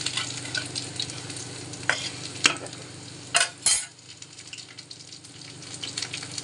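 Pumpkin flower fritters coated in gram-flour batter fry in hot oil with a constant bubbling sizzle, broken by a few louder scraping and clinking strokes of a spatula partway through.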